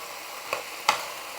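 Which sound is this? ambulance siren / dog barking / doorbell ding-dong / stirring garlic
stirring garlic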